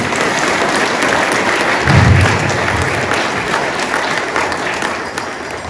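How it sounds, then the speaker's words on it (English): A crowd at the Crazy Horse Museum claps for a Lakota Sioux dancer after his performance, giving sustained, even applause with one low thud partway through. "Let's give him a round of applause"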